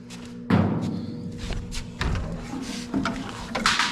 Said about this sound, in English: let's try the front door